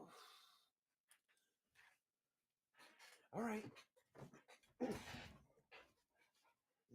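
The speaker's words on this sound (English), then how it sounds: "My dog is not a mascot, but you can definitely hear him going ham in the background" A dog pants and breathes heavily in short bursts with faint whimpers, close and quiet, while someone speaks briefly over it.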